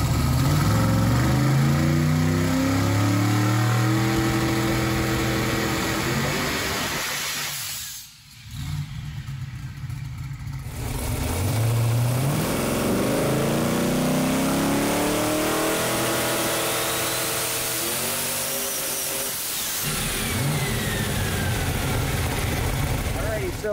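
A tuned car engine on a dyno-style pull revs hard and climbs toward 7,000 RPM, loud and close, with a brief lull around the middle before a second rising sweep of engine noise.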